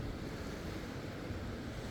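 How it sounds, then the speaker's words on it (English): Waves wash continuously along the shore near an old ship at Albany, a steady, faint broadband roar of surf mixed with wind buffeting the microphone, with no voices. "We hear the waves crashing in the background."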